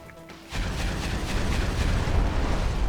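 A mortar explosion from the Hydra in Minecraft's Twilight Forest: a sudden deep boom followed by a sustained, loud, rumbling roar that lasts several seconds, close and without talking.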